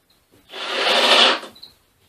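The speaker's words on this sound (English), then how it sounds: "now we'll drill out the 2 remaining holes in each one of these" A single short burst of a power drill boring a screw hole into wood while mounting a drive motor on an old wood lathe, a rough whirring grind lasting about a second, close and loud against near silence.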